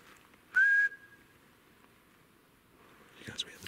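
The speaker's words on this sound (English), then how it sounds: "Best whistles. The Jays came in, one was over there." A single clear whistle, likely from a jay, rings out in the woods as a short rising note that holds steady, followed later by faint rustling and scattered bird sounds.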